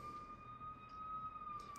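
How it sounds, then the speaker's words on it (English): Emergency vehicle sirens wail outside, a steady distant tone that sounds faint and continuous, with no voices. "Sirens. All of a sudden, sirens."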